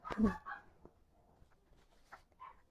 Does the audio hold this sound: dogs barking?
yes